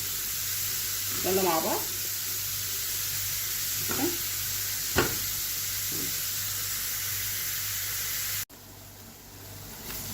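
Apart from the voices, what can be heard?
onion and minced meat frying in a pan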